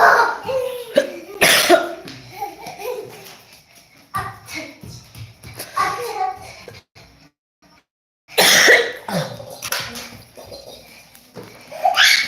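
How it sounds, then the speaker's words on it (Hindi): A person coughs repeatedly and clears their throat in a series of harsh bursts, separated by quiet pauses, with some speech mixed in. "खांसी बहुत ज़्यादा आता,"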